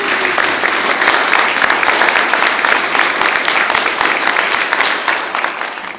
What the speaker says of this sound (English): Can we have a round of applause for our speakers again